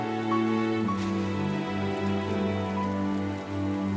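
Steady rain pours through a scene in the video game Punishing: Gray Raven, a continuous wash of falling drops layered under sustained musical tones, with no voices.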